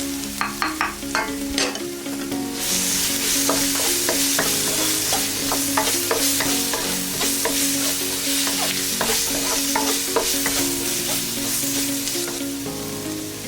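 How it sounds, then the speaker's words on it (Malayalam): Chili powder being stirred into squid roast frying in a pan, with steady sizzling under repeated close scraping and clinking stirring strokes throughout, no voices. "അതിനുശേഷം മുളക് പൊടി ചേർത്ത് ഇളക്കുക."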